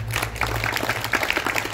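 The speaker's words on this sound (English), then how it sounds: "So let's give Lori a round of applause" An audience at a ribbon-cutting ceremony for a housing development applauds, a burst of dense, close clapping filling the whole short moment with no talk.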